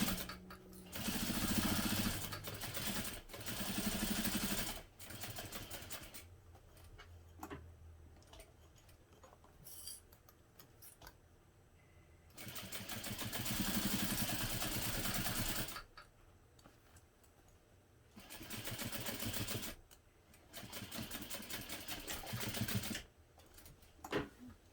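A sewing machine bastes around the sides and bottom of a fabric pocket in bursts of rapid mechanical stitching, several runs separated by short pauses and quiet handling.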